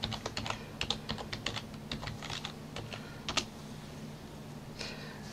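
Computer keyboard typing a password during an Ubuntu 17.04 server install, a quick run of crisp, close key clicks followed by a pause and a final pair of taps.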